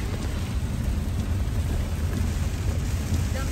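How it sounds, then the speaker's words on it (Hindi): Very heavy rain heard from inside a moving car, a dense, steady, even hiss and rumble throughout, loud and unbroken, with no voices. "बारिश हो रही है बाहर, बहुत तेज"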